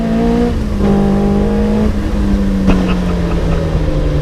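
A Caterham 420R sports car drives past with its engine revving, rising and falling in pitch as it accelerates and shifts, loud and close with a strong buzzy tone and no talking.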